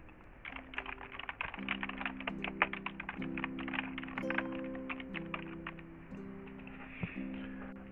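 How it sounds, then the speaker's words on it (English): Rapid keystrokes on a computer keyboard as a description is typed into a form field, a dense run of close clicks with short pauses, heard alone over a steady low background hum. "Then I'll tab forward to the description and type it in."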